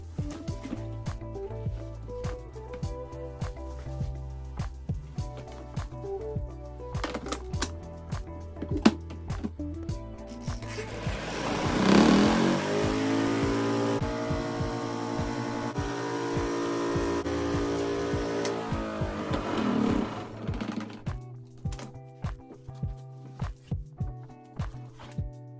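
A ZENY portable washing machine's spin dryer running with clothes inside, its motor ramping up to a steady whirring hum for several seconds and then winding down, framed by clicks and handling knocks.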